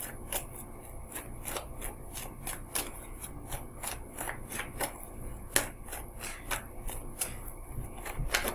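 Tarot cards shuffled steadily by hand, a rapid series of crisp, close riffling snaps and flicks repeating for several seconds with no talking.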